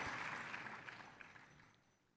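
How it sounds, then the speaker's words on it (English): Applause from diners at the 2014 CPCA annual conference celebration dinner, a brief burst of clapping that starts fairly full and tapers off over a couple of seconds, faint overall with no voices on top. "Definitely deserving of a round of applause."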